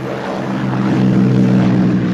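A propeller-driven fighter aircraft of 1939 takes off nearby, a steady loud droning engine with a low throbbing tone that swells slightly as throttle rises.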